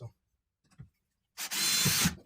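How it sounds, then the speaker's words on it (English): A power drill drives a screw into a spring-loaded door hinge in one short, close burst of whirring after a few quiet handling clicks. "So I'm going to screw that down."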